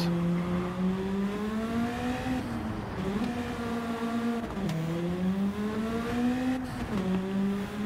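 A race car engine drones steadily under load in Gran Turismo 7, its pitch sagging and recovering with each gearshift across several cycles, loud and close, with tyre noise underneath and no talking.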